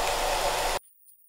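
A hair dryer runs as a loud, close, steady rushing blast, picked up through a Rode NT USB microphone, then cuts off abruptly into near silence.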